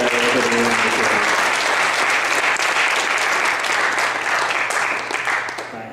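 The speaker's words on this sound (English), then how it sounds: "let's give everybody who's kind of put their conference together a bit of a round of applause" Audience applause at a whale watching conference, a loud, dense wash of many hands clapping close by that holds strong before tapering off at the end.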